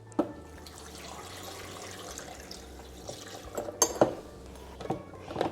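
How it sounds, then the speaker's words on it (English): Beef broth from boiling chiles poured into a blender for tamale red sauce, a steady liquid pour and splash with a few sharp clinks near the end. "Okay, so I'm gonna put this into my blender."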